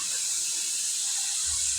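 More than a kilogram of meat fries in a pan while being stirred, giving a steady, close hissing sizzle throughout with no voices.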